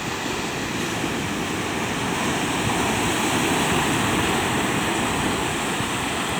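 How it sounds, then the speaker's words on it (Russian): A large ocean wave breaks on the shore where a river meets the sea, producing loud, close, continuous roaring surf with a broad wash of churning water and no voices. "Это большая была, очень красивая волна."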